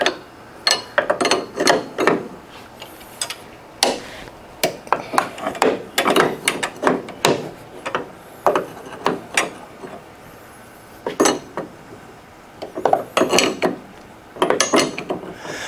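Repeated metallic ratcheting bursts from a hand wrench loosening the strut rod nuts at the lower A-arm of a 1970 Ford Mustang Mach 1, with short pauses between sets of clicks, close by.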